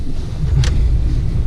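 A 1999-2007 Ford F-250/350 truck on new 4400-pound 6+1 rear leaf springs drives along, giving a steady low road rumble with wind noise and a brief hiss midway.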